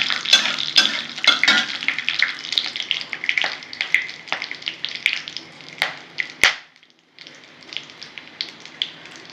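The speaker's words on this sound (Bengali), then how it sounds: "ফোড়নটা একটু ভেজে নেব।" Whole spices and chillies crackle and spit in hot oil in a home kitchen, a dense steady sizzle broken by sharp pops and stirring scrapes, briefly dropping near the end before resuming.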